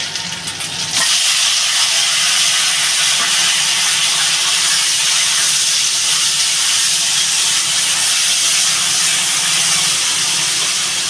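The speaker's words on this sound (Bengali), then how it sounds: "আমি এবার এই কলাগুলো ঢেলে দেবো।" Plantain pieces poured into hot oil with ginger: a sudden loud burst of sizzling that starts about a second in and holds as a steady, strong, close hiss for the rest, no speech.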